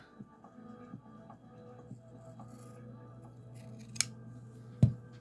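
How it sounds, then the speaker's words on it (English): A few quiet snips of large wavy-edged scissors cut through paper against a soft background hum, with one sharper cut near the end. "those big scissors. And they're a wavy one."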